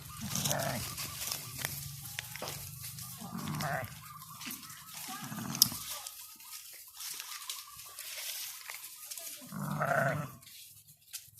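Sheep bleat repeatedly on a farm in a series of nearby calls, spread irregularly through the scene with quiet rural background between them.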